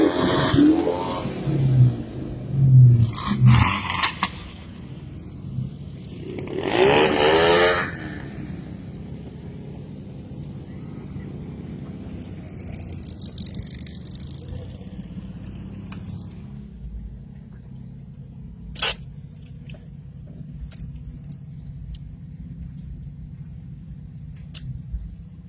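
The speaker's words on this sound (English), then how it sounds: "Got the windshield wipers going." Car windshield wipers scraping back and forth across wet glass during a rainy Fourth of July parade in La Junta, Colorado, heard from inside the vehicle over a low engine rumble with occasional splashes and bumps.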